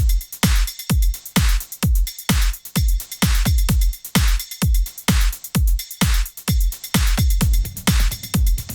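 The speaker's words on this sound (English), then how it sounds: "So another example of programmed drums" Tight, punchy programmed drum loop, clean and dry, with hard kicks and bright snare and hat hits repeating in a steady, fast groove throughout, loud and alone with no voices.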